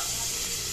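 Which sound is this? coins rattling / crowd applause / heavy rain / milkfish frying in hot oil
milkfish frying in hot oil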